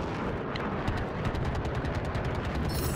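Rapid, steady automatic aircraft cannon fire hammers continuously in a video game, dense and loud, with a broad rumbling roar beneath the repeated bursts.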